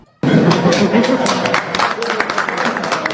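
An audience breaks into sustained applause after a brief silence, claps dense and steady under crowd noise, with scattered voices mixed in.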